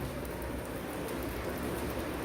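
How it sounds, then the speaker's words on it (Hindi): Steady, dense hiss of heavy rain pouring down in Patna, a continuous wash of drops on surfaces with no voices over it. "पटना में तो पूरा झमझमा के बारिश होता"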